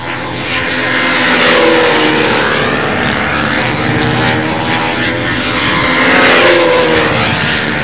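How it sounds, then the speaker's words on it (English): A twin-engine model airplane flies at a windy world championship contest, its propeller engines droning steadily and loudly with slight rises and falls in pitch as it passes. "This plane doesn't look like a handful to fly."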